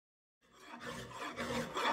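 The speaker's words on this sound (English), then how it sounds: "I will get this chucked up into the vise over on the bench, and we'll go at it with a file." A hand file rasps across a metal casting clamped in a bench vise, with steady scraping strokes that start after a moment of silence and build up close and fairly loud.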